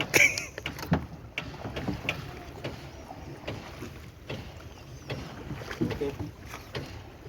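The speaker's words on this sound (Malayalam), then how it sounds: "വള്ളം തുഴയാനും നമ്മൾ പഠിച്ചു" Oars splash and knock rhythmically against a wooden rowing boat on a boat trip, with wind and light background noise between strokes.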